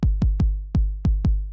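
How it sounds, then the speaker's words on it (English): A 909 kick drum sample hits six times in an uneven pattern, each a loud, deep, punchy thump with a short decaying boom, dry and close with nothing else audible. "Just starting from like a 909 sample."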